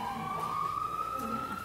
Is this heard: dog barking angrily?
no